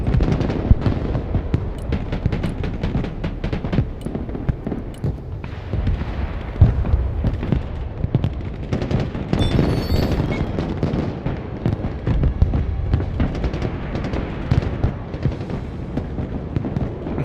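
Sustained gunfire aimed at a Guardian in the Broken Arrow war game, rapid dense bursts of shots and booming impacts layered over each other, continuous and loud for the whole stretch.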